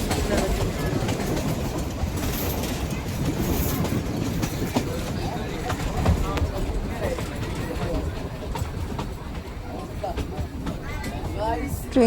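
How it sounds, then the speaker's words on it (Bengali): The Shimla toy train easing its speed as it approaches Shimla station, with a steady rumble and rhythmic clickety-clack of the carriages heard from on board. "ট্রেন আস্তে আস্তে নিজের গতি কমিয়ে দিল।"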